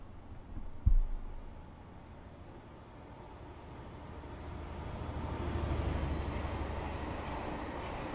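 HST train running in Train Simulator 2017, a low steady rumble and hum that slowly swells louder toward the end, with a brief thump near the start, faint and without talk.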